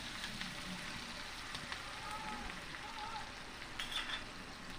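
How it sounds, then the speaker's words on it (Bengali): Onions frying in oil in a home kitchen pan, a steady soft sizzle running throughout at moderate level, with faint background noise and no clear talk over it. "পেঁয়াজটাকে আমার লাল লাল করে ভাজা হয়ে যাচ্ছে, দেখো ভাজছি"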